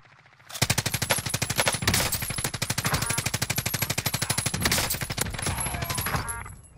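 Sustained automatic gunfire from a Call of Duty Warzone battle royale match, a long rapid rattle of shots with a few louder bursts, loud and close, with no talk over it.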